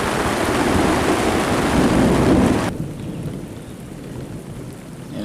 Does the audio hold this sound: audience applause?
no